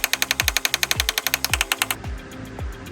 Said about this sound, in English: Big pull with a slide hammer.